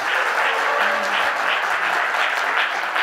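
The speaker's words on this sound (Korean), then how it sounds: "수어통역 하고 계시는 두 분께 큰 박수를 부탁드리겠습니다" A crowd at a political party founding convention applauds two sign language interpreters, with dense, even clapping sustained throughout and no talk over it.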